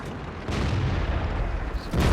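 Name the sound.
tank cannon shot in World of Tanks video game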